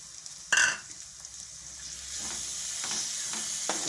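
Green peas and tomatoes frying in a pan for a fresh turmeric curry, one sharp splash of sizzle as they drop in, then a soft steady hiss with faint stirring, no voice.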